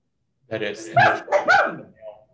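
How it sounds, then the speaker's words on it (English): A dog barks several times in quick succession, fairly close and loud, mixed with a person talking over it. "Oh, that's a dog."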